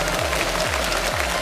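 Studio audience on a Japanese morning TV show applauding two Fukuoka baseball players, a brief burst of steady, even clapping with a few low thumps underneath.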